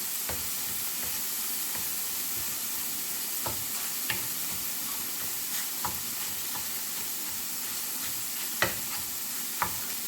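Scrambled egg with onion greens stirred in a hot pan, a steady close sizzle with scattered scraping taps of the spatula.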